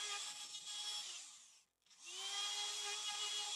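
A router cuts rebates into the tenon of a kitchen worktop joint, a loud steady high whine that dips briefly to near silence as the tool comes out of the cut, then resumes at full speed.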